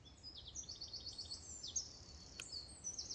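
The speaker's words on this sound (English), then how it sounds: "listening to the bird song." Faint birds chirp and sing in a bluebell wood, a quiet scatter of repeated high calls over a soft still background.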